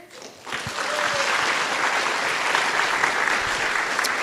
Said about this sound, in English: Can we get a round of applause for our amazing directors?